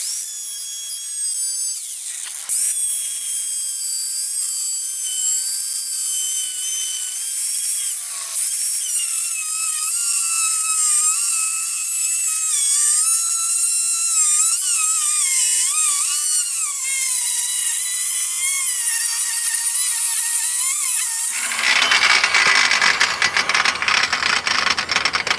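A power tool cuts through the spring plate of a 1964 VW Type 3 Notchback, giving a loud, continuous high whine that lasts about twenty seconds and ends in a harsher grinding burst.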